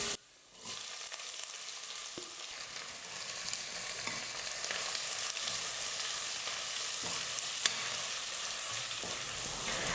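Garlic, sliced onions and curry leaves fry in hot oil for a brinjal kara kuzhambu. A close, steady hiss of sizzling runs throughout, broken by a few light stirring knocks.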